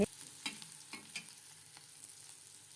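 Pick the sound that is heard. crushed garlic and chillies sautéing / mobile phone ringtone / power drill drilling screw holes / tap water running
crushed garlic and chillies sautéing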